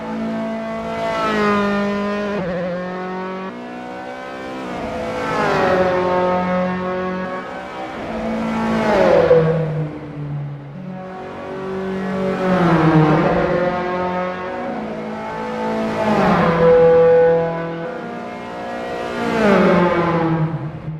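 A Dallara F312 open-wheel race car in the Assetto Corsa racing game, its engine revving up and easing back in repeated loud surges, five rising-and-falling sweeps with gear changes in between, no voices.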